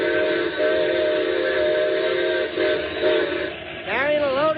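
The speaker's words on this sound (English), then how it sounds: "Better whistle for it." Steam train whistle sounding ahead of a curve and a crossing, a sustained harmonic tone over steady rumbling train noise, with a brief falling-and-rising warble near the end, loud and close.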